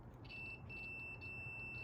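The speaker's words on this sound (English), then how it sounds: "this is gonna beep." A steady electronic beep tone from a continuity tester checking a chrome-plated part for a conductive path, sounding in two short pulses then a sustained tone, faint and alone.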